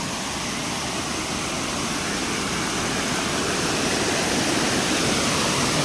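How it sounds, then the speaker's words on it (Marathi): Water from a small waterfall on a flooded river in Konkan pours in a loud, continuous roaring rush, steady and close, with no other sounds breaking through. "हा आहे धबधबा."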